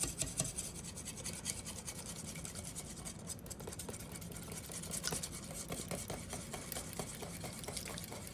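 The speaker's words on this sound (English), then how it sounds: "You will start to see me use small little like shaky stirs." Small, shaky stirs break up clumps in a cheese sauce, giving a steady close scraping and rubbing texture of the utensil working through the thick sauce, continuous with faint repeated ticks.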